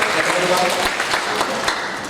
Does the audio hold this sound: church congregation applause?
yes